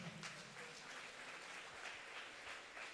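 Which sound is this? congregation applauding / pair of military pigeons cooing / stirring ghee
congregation applauding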